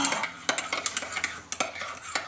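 A spoon stirring coffee in a cup, quick repeated clinks against the sides in an uneven rhythm, close and alone.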